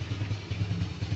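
An older Honda Supra X motorcycle engine idles close by, a brief steady low putter with even pulsing beats.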